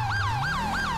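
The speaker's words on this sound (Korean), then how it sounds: "이 사이렌은 제가 바꿀 거예요." Police car siren in GTA V with three quick rising-and-falling yelps, loud and close over a low engine hum that climbs slightly in pitch.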